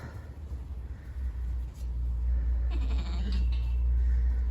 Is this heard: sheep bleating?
yes